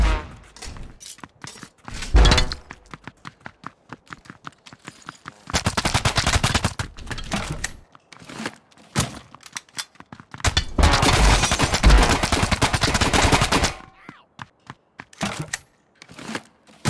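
Gunfire in the video game Rapture Rejects: bursts of rapid automatic fire in long loud stretches, broken up by single sharp shots and brief pauses, close and dominant.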